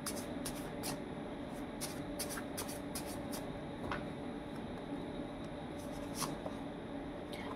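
Tarot cards being shuffled by hand at a quiet reading, with soft riffling flicks and slaps repeating in irregular bursts over a low, steady background hiss, faint and close, with no voices.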